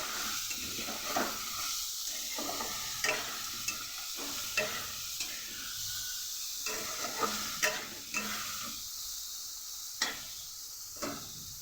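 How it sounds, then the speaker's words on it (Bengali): Soybean chunks frying with turmeric and salt in a pan, a continuous close sizzle broken by regular stirring scrapes and spatula taps roughly every second, no talk. "সয়াবিনের মধ্যেও দিয়ে দেবো পরিমাণ মতো হলুদ অল্প একটু পরিমাণ নুন দিয়ে ভালো করে এটাকেও ভেজে নেব"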